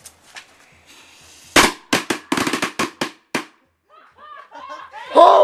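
Firecrackers set off inside a pumpkin outdoors, a quick string of about eight sharp cracks from a moderate distance, followed by startled laughter.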